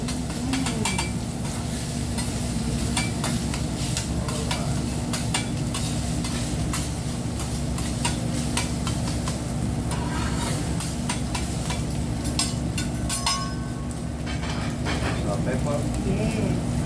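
Food sizzling with butter on a hibachi grill at a restaurant, a constant loud crackling hiss with spatula clinks and scrapes, and people chatting over it.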